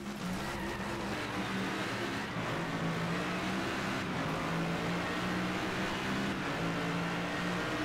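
Race car engine of a Mercedes in the DriveClub game, a dense, steady roar holding with slight pitch shifts throughout about eight seconds, some skidding texture mixed in, no voices.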